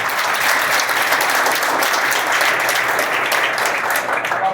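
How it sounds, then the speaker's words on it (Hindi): Loud, sustained applause from a school audience for students who passed Class X and XII, a thick unbroken wash of clapping from many hands that holds at full strength from start to finish. "एक बार सभी ले घनघोर ताली बजाइए आप लोग"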